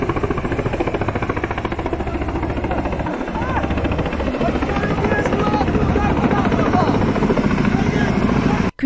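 A firefighting helicopter works over a forest fire on a steep mountain slope near Kütahya, its rotor chop loud and steady throughout, with a voice talking over it.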